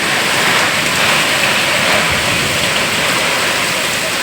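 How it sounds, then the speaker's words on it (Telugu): A heavy wind and rain storm in Andhra roars as a dense, unbroken hiss of downpour and gusts, loud and close throughout with no pauses. "చూడండి ఫ్రెండ్స్ ఎంత గాలి వాన."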